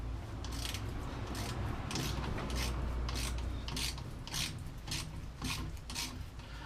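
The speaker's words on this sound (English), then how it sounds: "I'll loosen these caliper bolts." A ratchet works on the brake caliper bolts of a 1991 Toyota Celica, giving repeated rasping clicks in short bursts over a low mechanical background, close and fairly quiet, with no talking.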